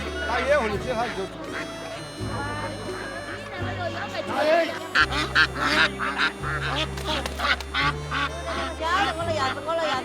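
Ducks quack and honk in bursts at a traditional Chinese village market, close by. People talk and haggle over the birds throughout, and their voices often rise above the calls.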